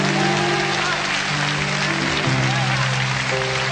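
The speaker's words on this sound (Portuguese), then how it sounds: "Será que você pode aplaudir ao Senhor nesta manhã?" A church congregation applauds during a morning service, a dense sustained clapping that fills the room steadily throughout, with an organ or keyboard holding tones beneath it.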